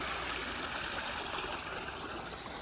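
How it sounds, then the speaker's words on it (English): A small waterfall just outside a window at a railroad park resort in Dunsmuir, California, giving a steady, soft rushing and splashing wash of water, faint and unbroken. "We have a nice little waterfall outside our window with some wild creatures hanging out"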